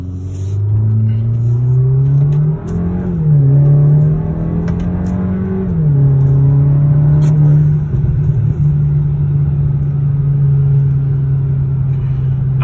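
Kia K5 GT-Line with a high-flow catalytic converter, its engine droning loud and close in a steady low hum, swelling briefly twice as revs rise and fall, then settling into a constant idle-like tone.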